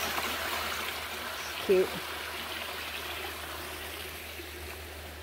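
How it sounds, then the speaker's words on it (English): A small waterfall on a Pennsylvania canyon rail trail pours in a steady broadband rush, close and continuous, with a brief spoken word from a man partway through. "Here's a nice little waterfall."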